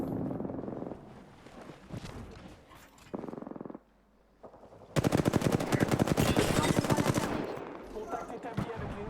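Rapid automatic gunfire in the Apex Legends video game, a short volley and then a long sustained burst at close range, with game sounds around it.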